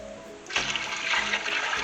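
Water running into a cooking pot, a gallon for a vegetable soup with tomatillos: a soft trickle at first, then a louder rushing, splashing pour that continues to the end, with no talk.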